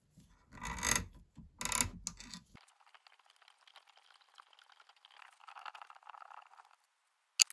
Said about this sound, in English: I'm not sure if this second hole is actually going to tap or not.